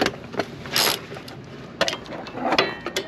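A ratchet with a 14 mm socket snugs up bolts while changing the rear brakes on a 124 Spider, giving short bursts of clicking and mechanical rattles spread across a few seconds, close and moderately loud, with no talking.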